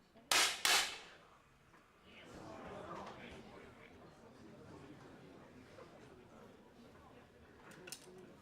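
A 10 m air pistol fires in a women's bronze medal final at the Munich World Cup, two sharp cracks close together near the start, followed by steady crowd murmur and chatter.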